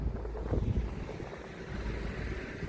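Wind at Blaenau Ffestiniog buffeting the microphone with a steady low rumble and soft gusty surges, loud and close throughout the short stretch.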